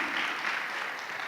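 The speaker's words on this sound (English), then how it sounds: "let's give a round of applause to Professor Sunichi Koshimura" A conference audience applauds a keynote speaker, a brief, even wash of many clapping hands heard at moderate distance and fairly soft, without voices.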